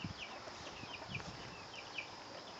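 An old rooster and young hens cluck softly on grassy farmland, a string of short repeated clucks at moderate distance over quiet outdoor background.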